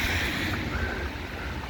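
Storm waves crash and splash over Blackpool promenade during Storm Debi, a loud roaring wash mixed with gusting wind buffeting the microphone, sustained for the whole moment with no speech.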